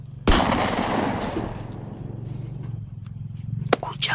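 A single loud gunshot in a video game cracks out sharply, followed by a long decaying boom and rumble, then a quieter game ambience with a faint high whine and a later short click.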